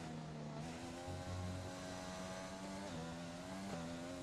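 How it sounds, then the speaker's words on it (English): F1 2020 race car at the British Grand Prix, engine screaming at high revs with stepped pitch shifts as the tires spin, continuous and close, steady engine whine throughout. "As I spun the tires"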